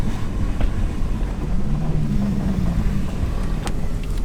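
A Lexus IS300 with a fully refreshed drivetrain drives along, giving a steady, close engine and road rumble that holds at an even level throughout.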